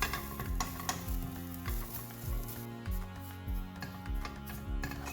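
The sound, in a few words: dry stir-frying preserved sweet radish in a pan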